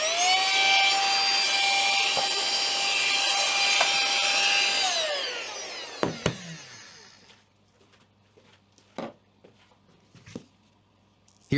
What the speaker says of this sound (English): pressing it continuously turns on the vacuum cleaner